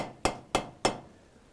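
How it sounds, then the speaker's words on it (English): Three sharp metallic knocks, evenly spaced and close, each ringing briefly before fading, as a ball peen hammer is set down on a hard surface while setting copper rivets. "I set the ball peen hammer down"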